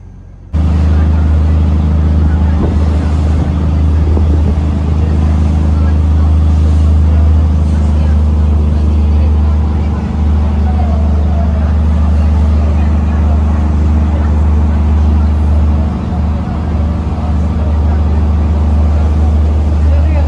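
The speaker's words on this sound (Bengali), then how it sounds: "আমি এখন টিকিট কেটে বোটে বসে আছি, কিছুক্ষণের মধ্যেই আমাদের বোটটি ছাড়বে।" A local ferry boat bound for Malé City in the Maldives idles with a steady, loud, low engine drone that holds throughout, with faint background murmur from passengers.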